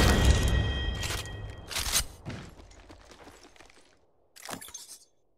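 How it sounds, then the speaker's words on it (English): In Apex Legends Mobile, an R-301 rifle fires several short, sharp bursts spread over a few seconds, each with a cracking, slightly shattering edge, loud and close. "Now try the R301 and shoot him down."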